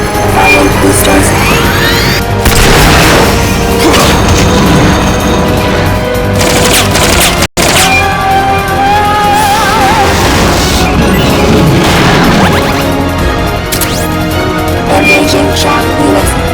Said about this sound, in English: Firing boosters.